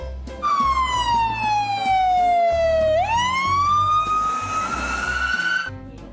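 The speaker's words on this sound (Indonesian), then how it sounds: "ada juga mobil ambulans teman-teman" A loud, close electronic siren from a toy ambulance wails in a single long falling-then-rising sweep, sounding thin and synthetic.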